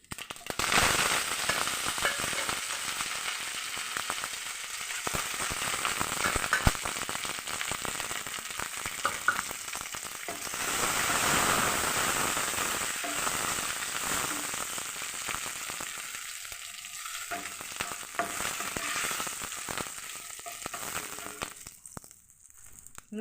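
Mustard seeds, fenugreek, dried chilli and curry leaves crackle and sizzle in hot oil for sambar, a loud, dense spattering with sharp pops that thins toward the end.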